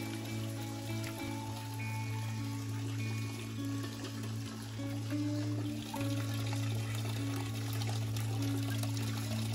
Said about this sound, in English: We're at United Methodist Church here to collect some spring water.